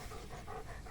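Dog panting rapidly and close by, a fast rhythmic breathy huffing that runs steadily without pause.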